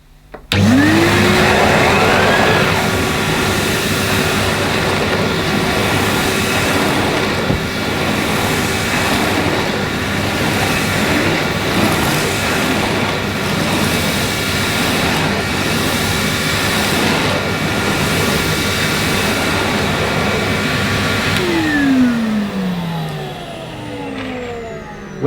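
A Numatic Henry vacuum cleaner with an aero brush runs loud and steady on Saxony carpet, its motor spinning up at the start and winding down at the end, with no talk.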